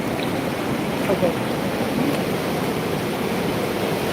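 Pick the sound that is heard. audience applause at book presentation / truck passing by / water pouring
water pouring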